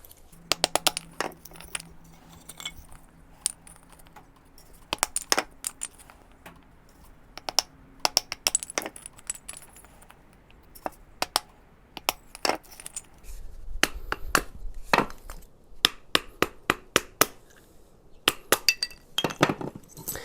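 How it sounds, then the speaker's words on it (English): A Gerber Hatchet keychain multitool splits small kindling in sharp, irregular chops and clinks, close and clear. The hits come in quick clusters with quiet gaps between them, and nobody speaks. "you need to split some simple kindling. You can do it with your Gerber Hatchet Multi-Tool."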